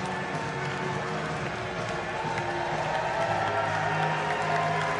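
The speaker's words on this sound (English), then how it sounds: "Big cheer in the crowd for Ellie CHALLIS" A crowd at a para swimming medal ceremony for the women's 50m backstroke S3 cheers and applauds steadily, a dense, continuous roar of voices and clapping that swells slightly toward the end.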